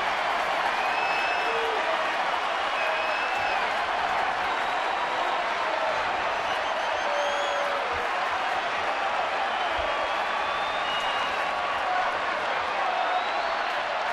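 Baseball stadium crowd at a San Diego at San Francisco game, a broad sustained roar of cheering and applause filling the whole stretch, steady and loud with scattered whistles.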